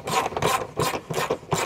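A bolt is tightened on a Hayward SwimClear C5030 cartridge pool filter, giving a steady run of rhythmic rasping, rubbing turns of roughly even length, loud and close with no talk.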